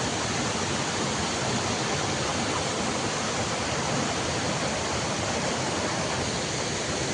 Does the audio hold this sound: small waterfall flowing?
yes